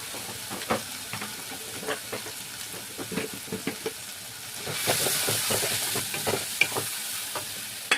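Spices including turmeric and Kashmiri chilli powder fry in oil while being stirred, a steady sizzle with repeated sharp scraping clicks of the spoon, and the hiss swelling louder midway as more oil goes in.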